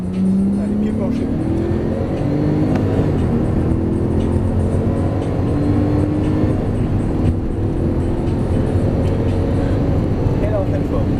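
A Porsche GT3 Turbo sports car engine at full throttle on a track, a loud sustained roar climbing in pitch through the gears, close and continuous, with an instructor talking over it in French.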